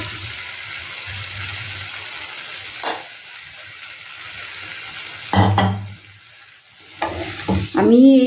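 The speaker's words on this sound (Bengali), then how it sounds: "এবার আমি এর মধ্যে ফুলকপিটা দিয়ে দেবো এই মশলাটার মধ্যে।" Cauliflower sizzles and fries in korma spice paste as it is stirred in a pan, with crackling bursts and scraping stirs that come and go over a quieter, steady frying hiss.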